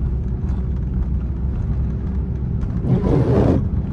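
A 2024 Volkswagen Atlas SEL R-Line drives through a blizzard, a steady low road and engine rumble heard from inside the cabin, swelling briefly into a louder rushing surge near the end.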